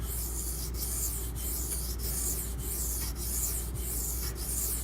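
A blade is rubbed across a very coarse, hard, dense sharpening stone, giving a steady gritty rasp with regular strokes roughly every half second, close and moderately loud with no talking.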